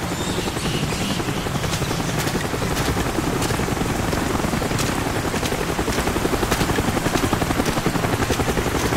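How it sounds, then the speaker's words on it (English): Enemy helicopters in the Call of Duty: Black Ops crash-site mission, a loud continuous rotor thump with rapid steady blade chop and a noisy rushing wash, sustained throughout with no talk. "Enemy helicopters incoming."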